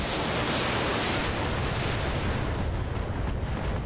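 Mech weapons firing in the Battletech video game, a loud continuous roar of broadband blasts and rumbling impacts that holds steady for several seconds before easing slightly at the end, with no voices.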